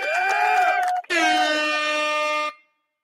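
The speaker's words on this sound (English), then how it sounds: "The air horn." Air horn sound effect fired from a sound pad during a live stream: two loud sustained blasts, the first about a second long, a brief break, then a longer steady blast that cuts off cleanly, with no talking over it.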